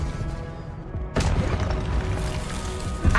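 An Expelliarmus spell cast in Hogwarts Legacy lands with a sudden booming burst, followed by sustained rumbling effects and another thump near the end.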